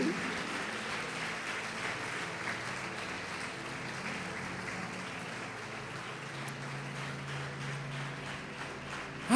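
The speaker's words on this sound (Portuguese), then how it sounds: "Quantos podem aplaudir o Senhor Jesus por isto?" Sustained applause from a church congregation during a worship service fills the room, a dense, even wash of clapping that continues at moderate volume throughout.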